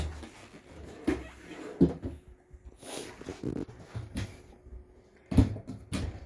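Kitchen drawers in a 2021 Forest River Wildwood Lite travel trailer opened and shut several times, with scattered wooden clunks and sliding knocks at irregular intervals; no one speaks.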